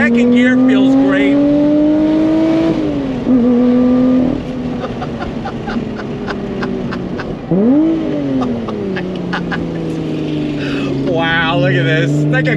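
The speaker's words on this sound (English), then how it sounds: "But let's go on throttle. On throttle. Second gear feels great." A Lotus Evora GT six-speed manual sports car accelerates hard in second gear. The engine note is loud and close, rising in pitch several times, with brief dips at the shifts.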